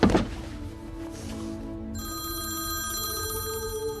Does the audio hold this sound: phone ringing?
yes